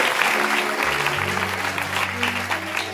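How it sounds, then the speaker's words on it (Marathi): Audience applause at a devotional bhajan program celebrating Krishna Janmashtami, a dense steady wash of many hands clapping for the full three seconds, with a low sustained tone from a harmonium or drone running underneath. "खरं जर मनापासून तुम्हाला कार्यक्रम आवडत असेल तर जोरदार टाळ्या होऊन जाऊ"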